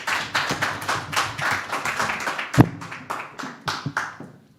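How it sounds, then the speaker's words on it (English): Applause from a small audience as a writer comes on stage at an art exhibition and book launch, a sparse group of distinct hand claps of uneven rhythm, nearby, thinning out toward the end. "A warm round of applause as she comes on stage."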